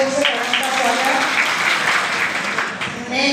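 Loud, sustained applause from a workshop audience welcoming Dr. Farnaz Siddiqui to the stage at a good touch bad touch teachers' workshop, dense clapping with a faint voice mixed in.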